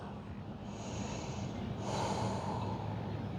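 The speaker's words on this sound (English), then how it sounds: "2 more breaths." Slow, steady nasal breathing during a yoga pyramid pose forward fold, soft and close with a quiet, even rush of air and no talking.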